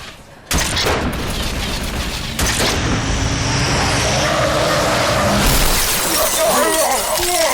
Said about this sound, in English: A car just came out of nowhere! Smashed all the brutes!